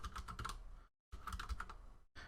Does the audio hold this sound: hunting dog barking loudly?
no